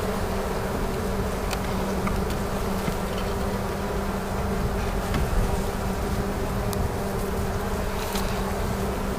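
Honeybees buzzing in a dense, continuous drone throughout a spring hive inspection, with occasional louder passes of individual bees close by.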